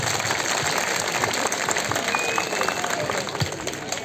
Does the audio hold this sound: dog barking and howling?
no